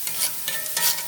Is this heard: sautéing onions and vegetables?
yes